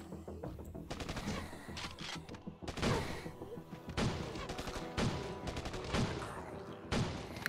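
Sustained machine gun fire in the zombie survival game Rogue Outbreak: Zombie War, with rapid repeated bursts and heavy thumps running through a dense, loud in-game mix.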